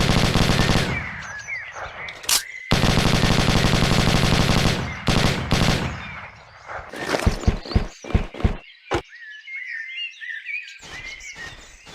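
Bursts of light machine gun fire from a Bren gun in the video game Hidden and Dangerous, loud sustained automatic volleys broken by brief pauses, then a string of sharp separate shots and a few scattered cracks near the end.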